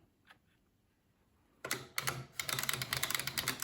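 Rapid clacking keystrokes on a Commodore 64 keyboard start after a quiet stretch with a couple of faint taps, then continue as a dense, close, irregular burst of typing.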